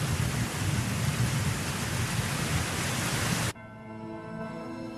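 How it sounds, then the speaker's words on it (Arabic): Steady heavy rain with a deep thunder rumble, loud and continuous, then abruptly cutting to a quieter, fainter background near the end. "إنها تمطر."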